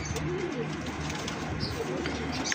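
A pigeon coos softly in a low, repeated purring call against steady outdoor background noise.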